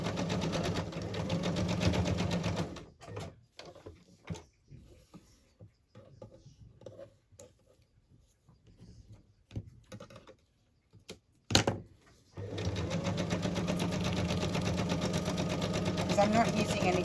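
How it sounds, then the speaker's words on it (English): Sewing machine running a straight stitch on fabric embellishments, a steady close whirring hum for a few seconds, then a pause with small clicks and handling, then running steadily again to the end. "now I'll go into straight stitch."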